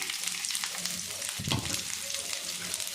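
Sliced onions going into hot oil for cauliflower gobi manchurian, a close, steady sizzle with a brief louder burst of frying and stirring midway, no talking.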